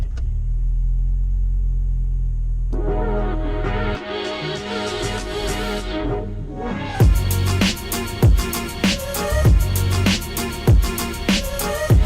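Steady low engine rumble of a car on the road, with a series of sharp knocks and thumps joining in partway through.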